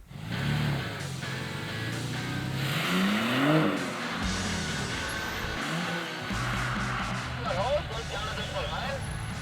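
A BMW car driven on a driving training course, its engine rising and falling in revving sweeps with a possible tire squeal, fairly loud and close, while a voice speaks over it.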